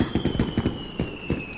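A rapid string of firework bangs and crackles, several sharp bursts in quick succession, with a thin high whistle running beneath.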